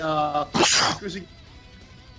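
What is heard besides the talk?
sneeze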